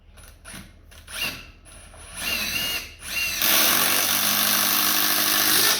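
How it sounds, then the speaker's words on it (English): A cordless impact driver whirs and hammers as screws go into a wooden stump for a kindling cracker, short bursts first, then a loud sustained rattling run close by. "So I'll just take out my impact driver."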